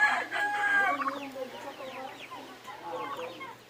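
A brooding hen and other hens cluck and chatter close by in a small backyard, a mix of short cackles and soft calls, with a busy farmyard bird chorus underneath.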